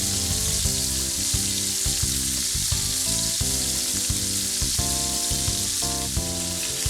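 Beef tenderloin browns in butter with rosemary in a pan, giving a steady, loud sizzle that runs the whole time under continuous background music.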